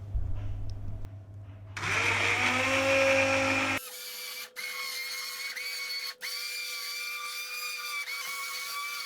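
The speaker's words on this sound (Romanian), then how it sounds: "Pasăm legumele cu ajutorul unui blender" A kitchen blender purees cooked mushroom-soup vegetables, whirring loudly in bursts, its high motor whine shifting in pitch as it runs, with brief dips where the blade load changes.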